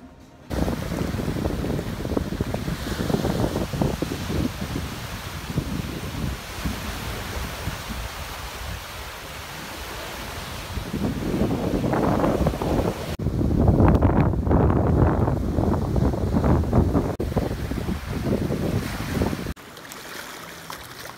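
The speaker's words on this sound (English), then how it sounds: "we're finally here in Masamirey Cove Beach Resort in Sual, Pangasinan" Waves and wind at a beach resort cove in Sual, Pangasinan make a steady surf wash under gusty wind buffeting, swelling louder in the later part before dropping away at the end.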